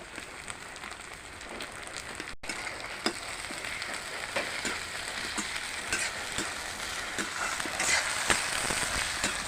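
Small shrimp sizzle and crackle steadily in hot oil in a pan, with dense spitting pops building slightly over the span; no voices.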